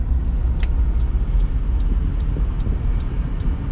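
Ford Fairlane driving around the block after two years unused, a steady low engine rumble and road noise heard from inside, with faint regular ticking over the drone.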